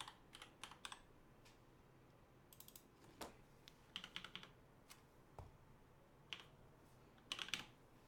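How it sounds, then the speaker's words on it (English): Typing on a Lego40 Bluetooth mechanical keyboard fitted with Retooled Black 63.5g switches lubed with Krytox 107, quiet scattered keystrokes in short clustered bursts with pauses, close and faint. "let me type on this code here"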